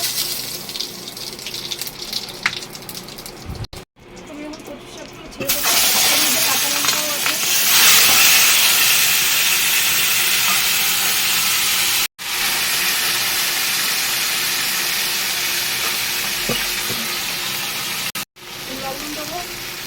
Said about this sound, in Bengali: রাঁধুনি সাদা জিরে শুকনো লঙ্কা তেজপাতা সব ফোড়ন দেবো